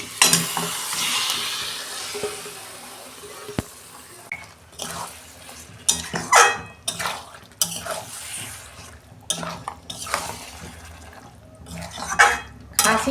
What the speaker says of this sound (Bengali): এই যে মাংসটা আমি দিয়ে দিচ্ছি।